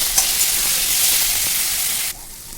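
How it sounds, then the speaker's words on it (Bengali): Sliced potatoes and tomato fry with ginger-cumin paste in a pan for a Bengali prawn and banana-flower dish, giving a steady loud close sizzle with light stirring, and the hiss drops abruptly near the end. "তারপর এটা দিয়ে ভালো করে কষিয়ে নিলাম"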